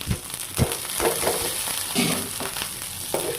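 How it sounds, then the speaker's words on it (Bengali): Rice and reddish-browned fried onions sizzle in a pan while being cooked for pulao, a constant close crackle broken by several scraping stirs at an irregular rhythm. "এবার আমি দিয়ে দিব চালগুলো ভালোভাবে ভেজে নিব।"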